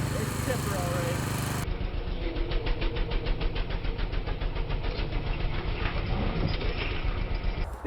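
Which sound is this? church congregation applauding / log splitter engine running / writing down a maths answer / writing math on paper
log splitter engine running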